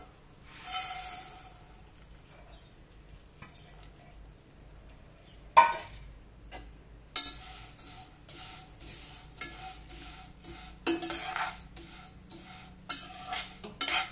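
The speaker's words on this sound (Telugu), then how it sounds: "దీంట్లోనే సేమియాలు ఫ్రై చేసుకున్నాం." Vermicelli is stirred and fried in a pan, giving soft sizzling and scraping with intermittent clinks of a utensil against the pan, close by, after a quiet opening stretch.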